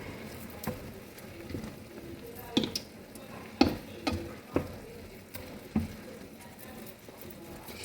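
Utensil scraping and clinking against a pan while food is stirred during cooking, with a soft sizzle underneath and a few sharper knocks spaced irregularly, fairly quiet and close.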